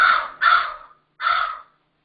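A pet bird gives three loud, harsh crow-like caws close by, two in quick succession and a third after a short pause, with nothing else heard.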